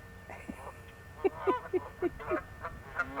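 Canada geese honking in a rapid series of about six nasal calls, moderately close and fairly loud over a faint outdoor background.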